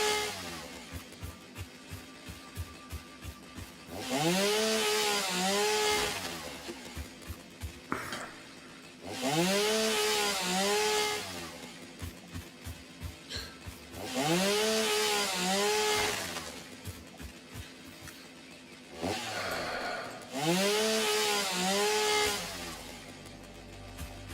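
A video game chainsaw clears land in four long, loud revving bursts. Each rises and falls in pitch, with choppy idle stutters between the bursts and no talking.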